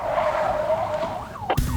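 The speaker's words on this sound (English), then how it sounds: "he loses control and comes skidding to a halt at the side of the road" A fleeing car loses control and skids to a halt at the roadside, tires squealing loudly and close for over a second before an abrupt crunching stop.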